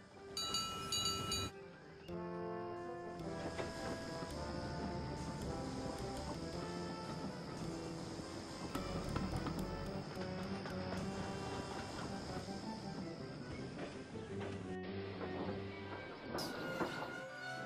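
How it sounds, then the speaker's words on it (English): A train rolls along the rails with a faint, steady rumble and rhythmic clatter, quiet beneath a musical score throughout. "Toby had to bring with him a strange train, unlike anything that he had ever seen."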